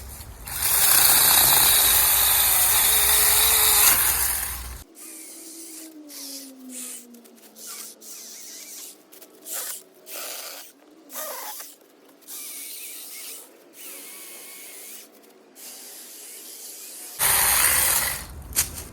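A lithium-ion battery powered mini handheld chainsaw whines at high pitch for a few seconds, stops, then after a quiet stretch of faint clicks and handling noise revs again briefly.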